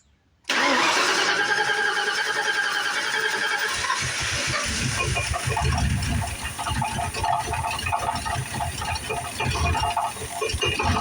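An SN95 car engine cranks over and catches on its first start-up after sitting. After a moment of silence the starter kicks in abruptly, then the engine settles into a loud, rough, busy idle close by.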